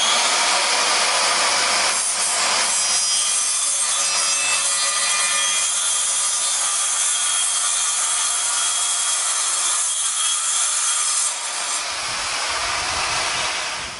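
Pieces of wood are sawn to 12 centimetre lengths for traditional Japanese geta shoes. A loud, close, continuous rasping cut fills the whole stretch and fades slightly near the end, with no voices.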